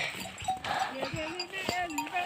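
Sheep and goats being herded on a farm, with faint bleats scattered over a busy outdoor background, a bell-like clink and people talking nearby.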